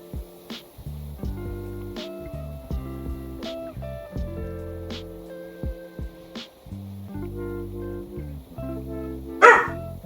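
Several pet dogs barking at the neighbors, a series of loud, sharp barks and yips in irregular bursts, close by, with no talk.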